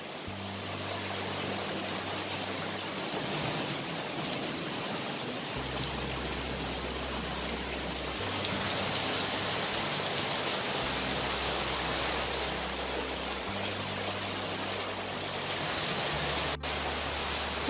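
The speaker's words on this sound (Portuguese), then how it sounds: "Tá derrubando, derramando chuvinha, ó." Steady outdoor rain falling in a continuous even hiss that holds at a moderate level throughout, with a low droning hum underneath and no voices.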